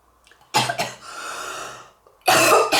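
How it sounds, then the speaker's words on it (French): A loud, close cough in two sharp bursts, followed by a raspy breath and then another heavy cough. "Ah ça y est, je tousse."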